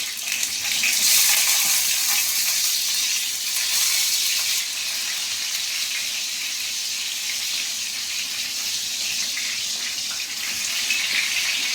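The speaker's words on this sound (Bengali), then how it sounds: "এদিকে দুদিকে পটল ভাজতে দিয়ে দিয়েছি।" Pointed gourd (potol) slices rubbed with salt and turmeric frying in hot oil in a kadai, a steady, continuous sizzle with a hiss, fairly close and even throughout, no talking.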